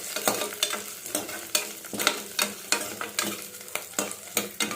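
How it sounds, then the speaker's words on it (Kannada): Spinach frying in a pan for palak paneer rice, a bright sizzle punctuated by regular rhythmic spatula scrapes about twice a second, close up with no voices. "ಪಾಲಕ್ ಸ್ವಲ್ಪ ವಾಸನೆ ಹೋಗ್ಬೇಕಲ್ಲ, ಸೊ ಅದಕ್ಕೆ ಫ್ರೈ ಮಾಡಿ ಹಾಕೋತಾ ಇದ್ದೀವಿ ರುಬ್ಬಕ್ಕೆ"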